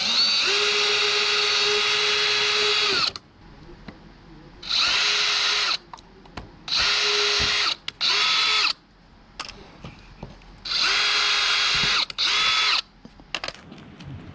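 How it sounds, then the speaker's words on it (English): A power drill boring holes through a Maxton Design side splitter for a 2015 Lexus RC F, whining in several separate bursts of a second or two with short quiet gaps between them, loud and close. "Gonna place that on top of this and just make some holes."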